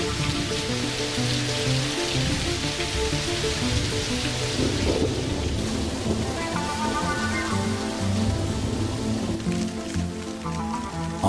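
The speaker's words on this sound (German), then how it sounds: "Wenn es regnet, werden wir nass." Steady rain pours down while thunder rolls in low and heavy, forming a continuous, close storm wash that stays loud throughout.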